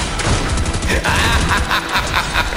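Gunfire in a Fortnite match: loud, rapid bursts of shots crack one after another over a dense, noisy mix of game sounds for a couple of seconds.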